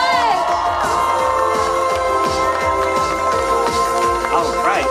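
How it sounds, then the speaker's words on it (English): A loud crowd at an anime cosplay fashion show at the Sakura Matsuri festival in Washington, DC cheers and whoops continuously, with shouting voices and a busy, roaring din throughout. "please give our cosplayers another round of applause"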